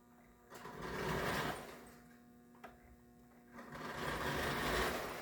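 American Flyer electric toy train with a sheet metal engine, a close whirring motor hum that swells and fades in waves, with faint rattling ticks and no speech.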